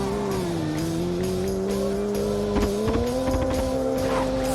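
A quick racing car in a driving video game holds a steady high engine drone with sustained tire squeal sliding in pitch, loud and continuous throughout.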